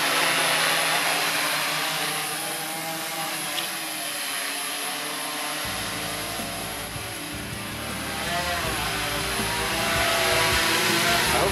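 A homemade quadcopter drone flies close by with a loud, steady buzzing whine of its propellers. The pitch and intensity shift slightly as it hovers and maneuvers, and no one speaks.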